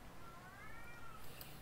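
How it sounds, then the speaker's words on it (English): Cats meowing outdoors in the Everlasting Summer game, a long drawn-out rising and falling meow heard faintly over a steady low ambient hum, with a brighter burst toward the end. "I hear the cats outside."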